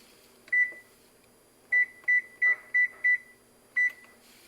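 An oven sounds a series of short electronic beeps while preheating in a home kitchen: one beep, a pause, then a quick run of five and a final one, clear over a quiet room hum.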